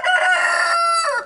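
A rooster crows once in a single loud, close call about a second long, rising and then holding a bright, harmonic-rich tone before trailing off, with no other sounds around it.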